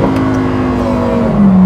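Lamborghini Huracan STO engine holding a steady, loud, close drone that rises in pitch near the end as the revs climb, with no talk.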